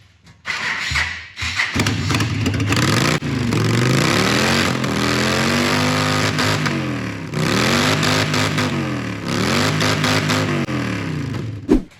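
A custom Yamaha Stryker bagger motorcycle engine cranks and catches, then revs up and down repeatedly in loud, rising and falling bursts with a deep rumble between.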